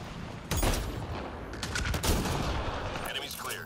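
Sniper rifle shots in a video game crack out as a few loud, sharp blasts with echoing tails, over continuous game background noise.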